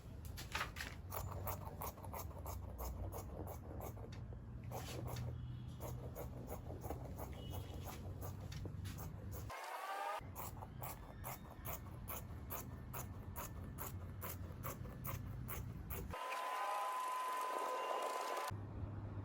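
Fabric pieces for a pencil gown with front slit and pleats being cut out, heard as quiet, rhythmic close-up snipping and rustling that runs steadily with brief gaps and no talking.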